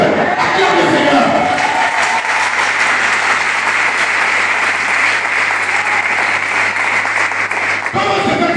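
Church congregation applauding the Lord during worship, a loud sustained wave of clapping from a crowd with some cheering mixed in, stopping near the end.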